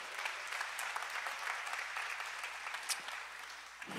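A church congregation gives a strong round of applause to the Lord during a sermon, a steady, fairly distant rain of clapping that fades slightly at the end.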